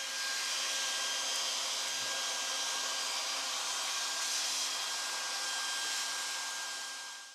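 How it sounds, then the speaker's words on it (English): A vacuum cleaner runs inside an opened clothes dryer during repair, giving a loud, steady whooshing whine that holds for several seconds and then starts to fade, with no talking. "I've cleaned it up a little bit with a vacuum"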